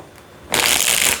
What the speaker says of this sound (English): 2 more shuffles for you, Ophiuchus, and then we'll see what we've got